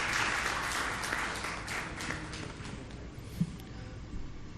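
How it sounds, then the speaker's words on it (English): Audience applause for an invited panel speaker at a financial markets event, a dense, steady clatter of many hands clapping that gradually thins out over a few seconds. "So a round of applause for Mr. Chauhan, please."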